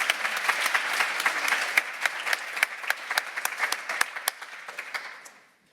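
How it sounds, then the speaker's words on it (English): Audience applause after a talk at a seascape restoration symposium, a full round of clapping that holds steady, then thins to scattered individual claps and fades out. "Okay, round of applause again then, thank you."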